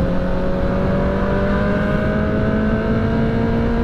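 A motorcycle hums along on the road, its engine close and loud in a continuous, even drone that rises very slightly in pitch, with no one speaking.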